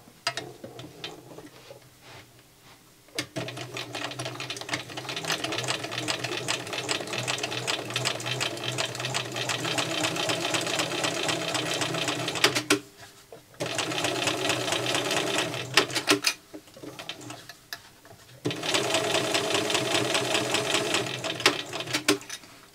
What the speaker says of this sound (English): as I sew it, I'm going to get my presser foot right up against it